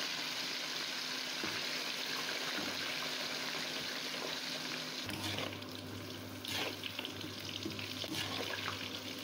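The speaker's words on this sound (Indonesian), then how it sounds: "kita mau menggoreng tahu putihnya" Steady hiss and crackle of white tofu frying in plenty of hot oil, continuous and fairly close, with a few brief clatters partway through.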